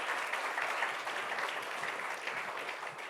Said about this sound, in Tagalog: Palakpakan mo ang Panginoon.